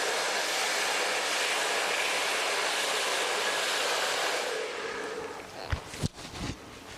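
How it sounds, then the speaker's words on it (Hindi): A blow dryer whooshes steadily through hair during a salon blow-dry, a constant airy rush that cuts off near the end, followed by a few soft handling knocks. "ड्रायर जब भी आप करेंगे तो शाइन आनी चाहिए"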